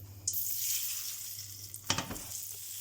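A duck breast (magret de canard) is turned in a hot pan and sears with a bright steady sizzle, flaring louder as it lands on a fresh face, close and without talk.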